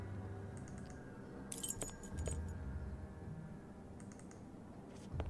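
A set of keys jangles in the Sherlock Holmes: The Awakened video game, with a few bright metallic clinks around the middle and near the end over a quiet ambient hum.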